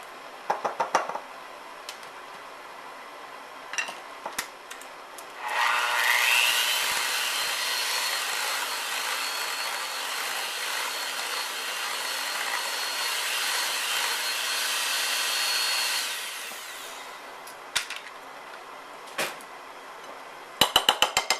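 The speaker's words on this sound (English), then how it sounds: "then turn the mixer back on and just make sure it's all beat together real well" Electric mixer beating chocolate chip tiramisu cheesecake batter in a bowl, a steady loud whir running about ten seconds, with a few knocks and taps before and after.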